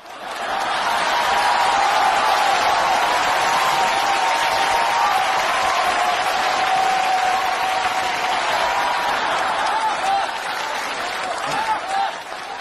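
Sustained, loud applause from a theater audience at a televised Spring Festival Gala comedy sketch, steady clapping that fills the whole stretch and fades slightly near the end.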